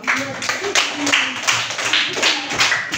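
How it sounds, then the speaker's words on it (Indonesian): A class of students claps for group 4, a loud run of overlapping hand claps lasting about three seconds in a classroom. "Tepuk tangan untuk kelompok 4"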